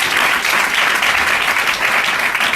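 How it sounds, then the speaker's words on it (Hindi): A church congregation at a Sunday service claps loudly and continuously, a dense, even wash of applause from many hands filling the room, with no speech over it. "यीशु मसीह के लिए हम जोर से ताली बजाएं।"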